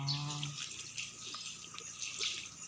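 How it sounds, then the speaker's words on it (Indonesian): Running tap water as hands are rinsed under a flowing faucet at a handwashing sink, a steady close splashing hiss throughout, with a brief voice at the very start. "habis itu bilas dengan air mengalir"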